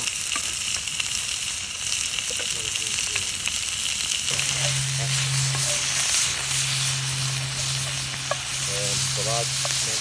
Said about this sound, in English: That's what you want, that sizzle.